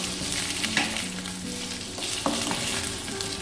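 Potatoes fry in a pan for an aloo gobi dish with cauliflower, giving a dense, steady sizzle with occasional stirring scrapes and clicks, close and fairly loud.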